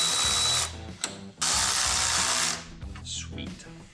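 A power tool ratchets in bursts while tightening an air fitting and a U-bolt on an off-road rollback truck, loud and close, with pauses between runs and brief talk nearby.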